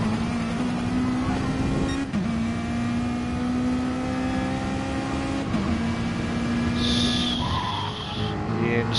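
A race car at a Le Mans endurance event power slides with tires squealing in a long, loud sustained screech under a droning engine, near and continuous, ending in a higher whine.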